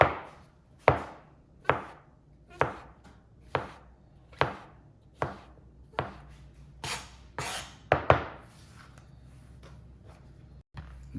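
A knife slices down through a vegetable on a cutting board for a pizza cooking demo, landing about a dozen crisp, evenly spaced chops with short decaying tails, close and clear with no talking.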